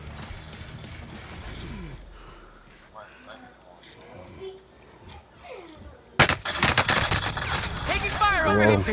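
Quieter game ambience and a voice give way to a sudden, loud burst of rapid gunfire in Call of Duty: Modern Warfare that keeps rattling to the end, with someone talking over it.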